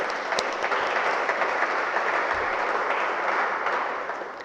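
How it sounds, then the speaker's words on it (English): Steady, dense round of applause from a large audience at an advocacy training course for junior advocates, held at an even loudness throughout and easing slightly at the very end. "Can I have a round of applause for that, please?"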